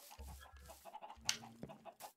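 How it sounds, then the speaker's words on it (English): Chickens clucking in the Minecraft video game, a few short, soft clucks and bursts spaced irregularly, faint and without speech. "There's chickens in here."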